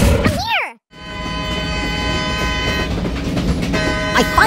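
A cartoon train in an animated dinosaur show rumbles steadily with sustained tonal hum after a brief silence, opening with swooping animated sound effects and ending with a faint horn-like toot.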